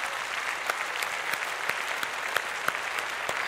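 Sustained applause from a studio audience on a Malayalam comedy stage show, standing for a mimicry performer, with steady dense clapping and a few sharper claps poking through the wash.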